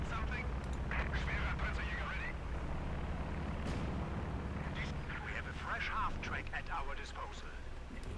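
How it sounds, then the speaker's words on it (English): Battle sounds from the real-time strategy game Company of Heroes 2, with artillery-like explosions and gunfire rumbling steadily beneath continuous commentary from a caster throughout. "We got some more explosions."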